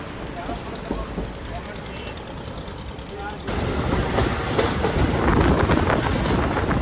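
Kanchanjungha Express train rolling across the Farakka bridge, a steady loud rumble of wheels on rails growing heavier midway, with rhythmic rail clatter throughout and no voices.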